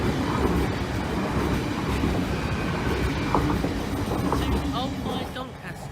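A train runs on an East Coast Main Line diversion route near Lincoln, a close, dense rumble of wheels and rolling stock that holds steady and eases slightly at the end, with voices over it.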